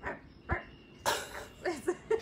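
A person imitates a meerkat's barking call with a few short, soft, yippy barks spaced irregularly, heard up close in a quiet setting.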